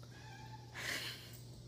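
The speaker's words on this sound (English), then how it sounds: "Yeah, the cat doesn't like that either." A cat meows once, a single drawn-out cry rising out of a quiet room with a low steady hum beneath it.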